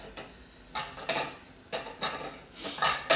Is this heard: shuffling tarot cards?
no